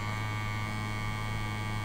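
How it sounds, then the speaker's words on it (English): A vibrating facial cleansing brush, switched on and running, gives a steady, even electric hum that holds unchanged from start to end, close and moderately quiet, with no talking. "This is a vibrating brush, so if you can hear and see, you can turn it on"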